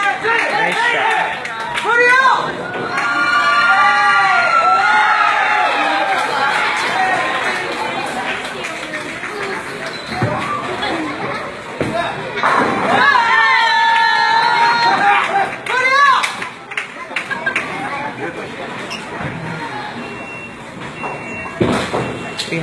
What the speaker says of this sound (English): We have our fellow Guamanian Koreans cheering on Team Korea here.